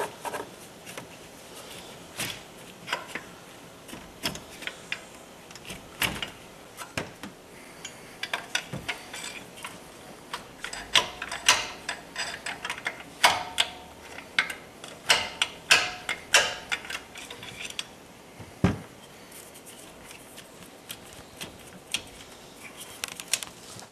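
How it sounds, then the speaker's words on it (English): Metal clicks, ticks and scrapes as a large screwdriver pries a GM alternator loose from its mount, a scattered run of sharp close taps that grows busier toward the middle, with no talking. "With a large screwdriver, pry out the alternator."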